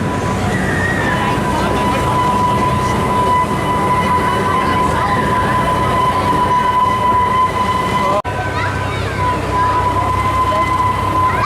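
The Pleasure Beach Express amusement park train ride at Blackpool rolls along with a continuous close rumble, a steady high wheel whine and faint clicks, with a brief break as it passes through a tunnel and people talking faintly.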